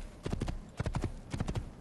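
A horse gallops in the Assassin's Creed video game, its hooves beating in three quick clusters of clip-clop strikes, steady and close.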